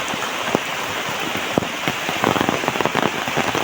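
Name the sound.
heavy rain falling on a pathway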